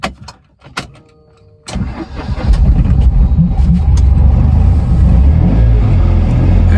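A car that sat unused during lockdown is cranked and starts after a couple of brief tries, then settles into a loud, steady, close idle rumble.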